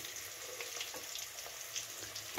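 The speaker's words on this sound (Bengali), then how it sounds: "আর এই দেখো মাছটা এখানে ভাজছি" Fish frying in hot oil in a home kitchen for a cauliflower and potato fish curry, giving a steady, faint sizzle and crackle with soft scattered pops throughout.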